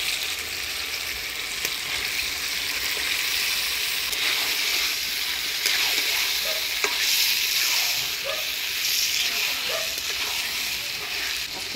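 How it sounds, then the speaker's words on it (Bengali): Washed chicken pieces hit hot frying spice paste in a pot, giving a steady loud sizzle with scraping stirs and crackling pops throughout. "এবার দিয়ে দিচ্ছি ধুয়ে রাখা মাংস।"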